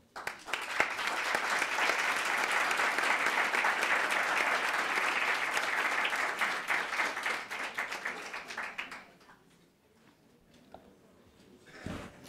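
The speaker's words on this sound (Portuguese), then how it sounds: "Uma salva de palmas para os meus alunos" Warm audience applause at the close of a masterclass on artificial intelligence, art and pedagogy, a dense steady clapping that fades out after about nine seconds, leaving near quiet with a brief stir at the end.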